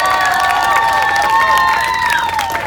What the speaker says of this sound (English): Can we give them all one big round of applause,